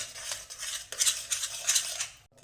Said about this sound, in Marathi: रवा अगदी खमंग भाजून घ्या या तप तुपामध्ये मंदाचेवरच रवा परतून घ्या